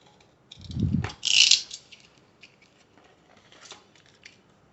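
A knife cuts through a water bottle label on a table, a short low scrape followed by a crisp slicing hiss, then a few quiet ticks and rustles.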